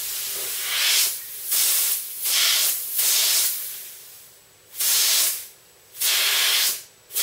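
Propellant hisses from an aerosol paint can in five separate bursts of broadband spray, each about a second long, loud and close with short quiet gaps between.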